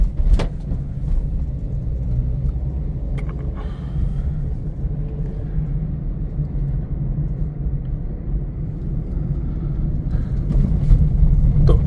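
A car driving along a road and overtaking a slower vehicle, its steady low engine and tyre rumble continuous and close throughout, swelling slightly near the end.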